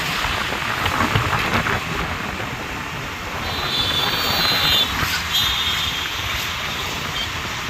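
Steady rain falls during a roadside journey, a broad even hiss that holds for the whole stretch with no talk over it.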